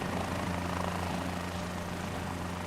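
Helicopter flying in Microsoft Flight Simulator 2024, a continuous droning rotor and engine hum with steady low tones under broad noise, fairly quiet and unbroken.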